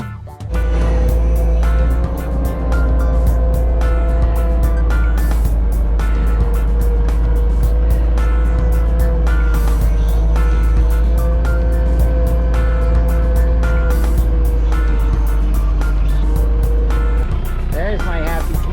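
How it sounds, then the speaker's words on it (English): Big tractor turning a pile, a loud continuous engine drone with steady low rumble and clanking, with voices talking over it throughout. "Baby's going to get the big tractor and turn the pile."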